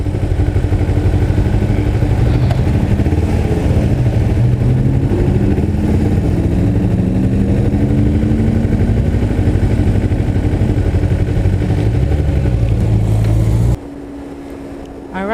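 Continuous motorcycle engine drone with shifting pitch, heard up close and loud during a ride, with a voice over it; the engine drops away abruptly near the end.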